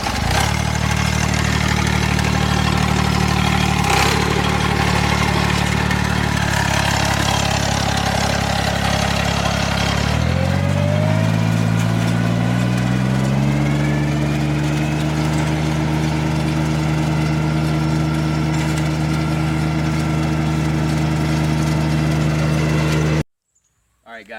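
A lawn aerator machine runs loud and close, its engine steady and rumbling, then shifting pitch and settling into a lower, smoother drone midway before cutting off abruptly near the end.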